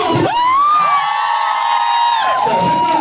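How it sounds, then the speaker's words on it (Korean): A fan meeting audience cheers and whoops together in one loud, sustained collective shout that swells, holds steady for about two seconds, then falls away and rises again. "네, 박수!"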